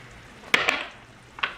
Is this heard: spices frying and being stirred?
yes